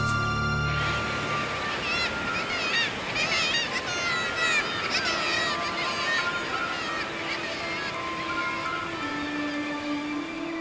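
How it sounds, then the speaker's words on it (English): Nesting seabirds crowd Arctic sea cliffs, filling the air with a dense, continuous chorus of honking and squawking calls, with a voice speaking over the colony. "Cliffs towering over the Arctic seas are alive with nesting seabirds."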